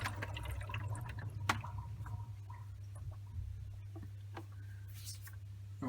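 Water trickles and gurgles steadily as a JBL Greenline e1501 aquarium canister filter drains, the flow sitting over a constant low hum.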